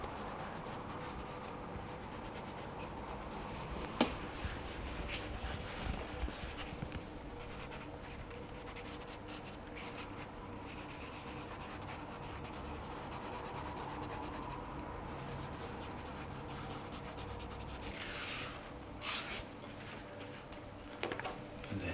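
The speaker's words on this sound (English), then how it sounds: "just take your finger and just give it a little rub." A finger rubs pencil shading on paper, a faint, steady, dry scratching that goes on with soft ticks and scrapes throughout.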